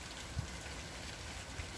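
Steady rain falls outdoors in strong wind, giving a soft, even hiss with a couple of faint low thumps and no voices.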